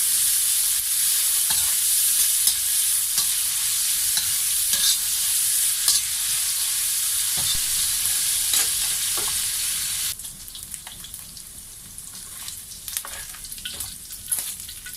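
Pork belly seasoned with salt and pepper frying in oil, a dense, continuous sizzle up close with occasional stirring knocks, the crackle easing noticeably partway through as the spitting calms.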